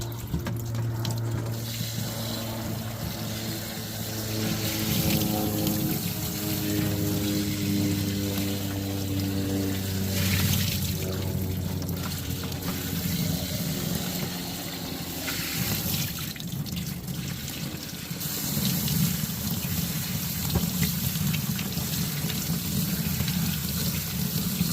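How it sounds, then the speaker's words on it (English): Tap water runs into a rock tumbler barrel of sunstones as it is rinsed out at a sink. The water makes a steady close splashing rush that shifts in tone as the flow strikes the barrel. "This is the last barrel I'm rinsing out today."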